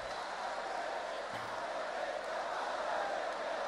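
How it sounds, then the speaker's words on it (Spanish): A rap battle crowd at the international final applauds and cheers for Pepe Grillo, a continuous roar of clapping and crowd noise held at a steady level. "un aplauso a Pepe Grillo, lo ha hecho genial también"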